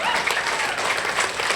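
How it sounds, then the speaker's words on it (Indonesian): Dense applause from an audience at an Indonesian speech event marking 16 August, steady clapping throughout with a faint voice underneath. "tepuk tangan kepada saudaraku semua"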